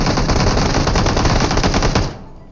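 Rapid automatic gunfire in the mobile battle-royale game PUBG Mobile, a loud, dense burst of shots lasting about two seconds before cutting off abruptly.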